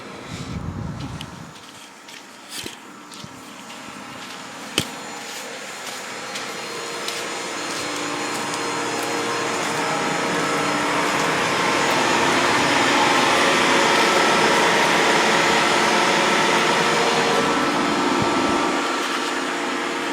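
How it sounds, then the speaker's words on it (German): Air conditioning of a Renault Zoe running in minus 9 degree cold, a steady broadband whooshing fan roar that swells and holds loud and close, alone without talk. "Bei minus 9 Grad wurde gerade die Klimaanlage gestartet."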